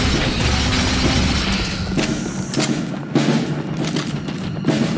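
Heavy booms and blasts of a bomb detonation in The Bureau: XCOM Declassified, with several loud, close explosive hits and rumbling impacts over a dense battle din.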